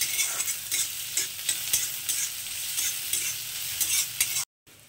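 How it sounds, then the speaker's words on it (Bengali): Chopped onion, garlic and dried chillies frying in a pan with a constant bright sizzle, broken by repeated stirring scrapes, before a sudden brief cutoff near the end. "পেঁয়াজ, রসুন, শুকনো লঙ্কা সব একসঙ্গে ভাজা হয়ে গেছে খুব সুন্দরভাবে"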